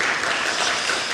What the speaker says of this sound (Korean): 우리 박수로 한번 격려해 주십시다